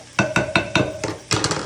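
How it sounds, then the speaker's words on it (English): A utensil stirs and scrapes sweet and sour pork in a pan, with a quick series of close metallic scraping strokes at a steady rhythm and a brief pause before a final cluster. "I can give that one last mix."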